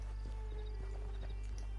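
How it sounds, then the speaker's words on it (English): Horse hooves clip-clopping in Red Dead Redemption 2, a steady trotting rhythm of faint hoof beats over a constant low hum. "Get on the horse there."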